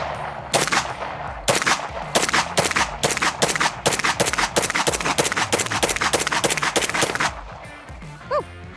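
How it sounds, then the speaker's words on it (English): An MP5 fires at an outdoor shooting range in a long run of sharp, loud, closely spaced shots of steady rhythm, each with a bright crack. A brief voice follows once the firing stops. "I now get to shoot the MP5."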